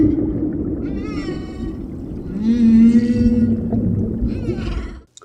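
Humpback whale song, long moaning and wavering calls rising and falling in pitch, drawn out in a few phrases over a dense low rumble, ending abruptly.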